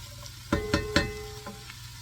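Carrots, celery and onions being sautéed and stirred in a soup pot, with a quiet sizzle underneath and three or four close clattering knocks of a spoon against the pot in quick succession.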